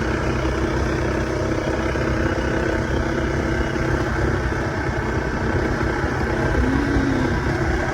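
A motorcycle engine runs steadily on a ride out to a dam around dusk, a loud, close, continuous drone without pauses or talking.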